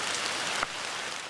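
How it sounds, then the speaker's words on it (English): Steady rain falls outside a house, a dense, even patter that stays close and continuous throughout, heard alone. "As the rain falls, Audra Toussaint watches from the comfort of"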